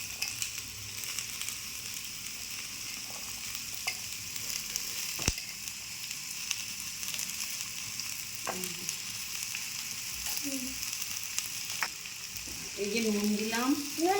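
A potato and cauliflower filling with salt and turmeric sizzles steadily in a pan, a continuous close frying hiss broken by a few sharp clinks of a spatula, while someone speaks briefly over it.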